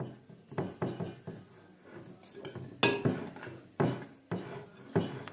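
Slime being mixed by hand in a bowl, heard as a string of sharp knocks and clacks against the bowl, each followed by a quick fade, in an uneven rhythm, close up with no talk.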